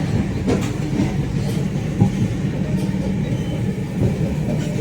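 An express train rushes through a small station without stopping, a steady loud rumble with rhythmic clickety-clack of wheels over rail joints throughout.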